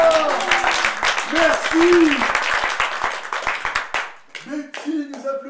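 Scattered audience clapping, a spread of distinct sharp claps, mixes with several voices talking over it, then thins to a few isolated claps and more speech near the end.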